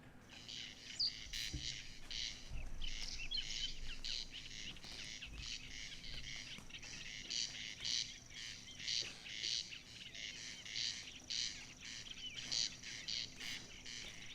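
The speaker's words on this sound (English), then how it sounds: "So you can hear corncrake, winchat, you can also hear warbler. Grasshopper warbler." Corncrake, whinchat and grasshopper warbler sing together in a quiet nighttime scene: a repeated rasping call over a steady high insect-like trill, with some scattered chirps, distant and faint.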